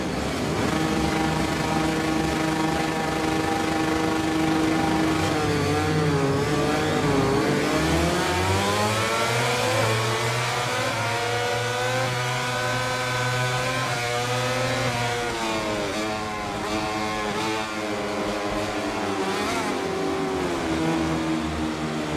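MotoGP racing motorcycles, a Honda team bike among them, howl around the Mugello circuit toward San Donato corner in MotoGP 22, their engines rising and falling in pitch through gear changes, loud and continuous with several bikes overlapping.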